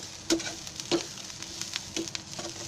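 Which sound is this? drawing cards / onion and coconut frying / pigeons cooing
onion and coconut frying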